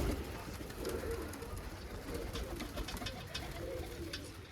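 Several pigeons coo softly and repeatedly nearby, low burbling calls overlapping against a faint outdoor background.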